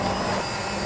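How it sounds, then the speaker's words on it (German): A blender pureeing cooked sweet potatoes and broth for a sweet potato soup with chorizo, giving a steady, loud, dense motor whir that holds without a break for just under a second. "So, jetzt haben wir die Kartoffeln püriert."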